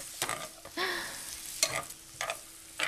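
Frozen crab meat and shrimp stirred in a hot stir-fry pan on high heat for seafood curry: loud, close bursts of sizzling and spatula scraping come in several uneven strokes over a quieter background hiss.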